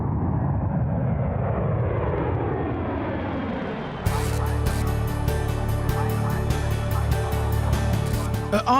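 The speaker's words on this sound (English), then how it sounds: "the C-17 touches down after a 9-hour flight from Kandahar" C-17 military transport jet touching down at RAF Brize Norton in Oxfordshire after a long flight from Kandahar: a loud engine roar sweeping downward, then an abrupt switch to a steadier heavy drone with occasional clunks.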